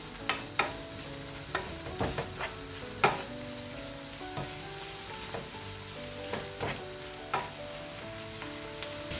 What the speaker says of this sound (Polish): lekko przeduszę całe grzybki z masełkiem